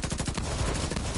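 Rapid gunfire in The Division 2 during a four-player co-op firefight, dense and continuous bursts filling the whole moment with no talking over it.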